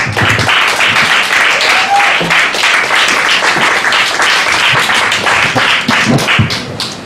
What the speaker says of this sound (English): I love the premature applause.